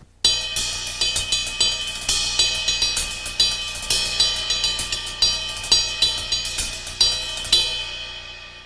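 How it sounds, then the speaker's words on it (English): Double paradiddle split between hi-hat and ride cymbal in a triplet 6/8 feel, steady bright metallic strokes with rhythmic accents, close and alone, no talking. "I'm playing what's normally called a double paradiddle with a 6/8 feel"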